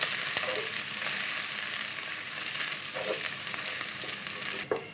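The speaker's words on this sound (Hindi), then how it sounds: "अब हम इसमें लहसुन अदरक का पेस्ट डालेंगे 1 चम्मच। अच्छे से फ्राई कर लेंगे।" Garlic ginger paste frying with browned onions in a pan, a steady close sizzle with occasional stirring scrapes throughout, no talking.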